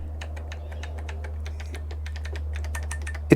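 Someone types quickly on a heavy, clicky vintage Olivetti computer keyboard made in Italy, with blue keys. Sharp, close keystrokes come in a steady run over a low electrical hum, and a louder knock lands at the end.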